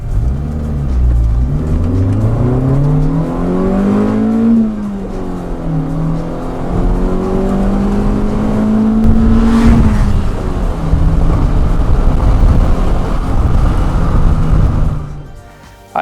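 A 1988 Honda CRX Si with a small 12-valve engine revs loud and close, its pitch climbing, dipping and climbing again through repeated high-rpm pulls before cutting off.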